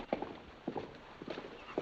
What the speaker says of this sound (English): The horse looks great.